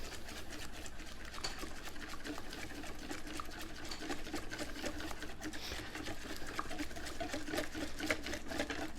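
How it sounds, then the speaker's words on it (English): A whisk beats egg yolks in a bowl for a béarnaise sauce, a rapid, steady, continuous rattle of metal against the bowl that runs evenly throughout without pause. "I'm just going to whisk them for a minute"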